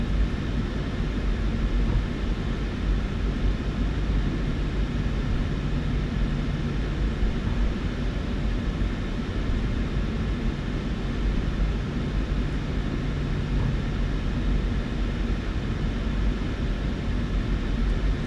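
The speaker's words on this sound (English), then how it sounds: "I'm trying to taxi the plane." Boeing 737-800 in Ryanair livery taxiing in Microsoft Flight Simulator 2024, a continuous even jet engine hum with a steady low drone and faint whine, unchanging and alone for the whole stretch.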